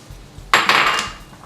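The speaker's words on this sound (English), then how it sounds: "now I'm going to add in my broccoli into my frying pan" Broccoli tumbling into a hot frying pan sets off a sudden close clatter against the metal that settles into a sizzle lasting about a second.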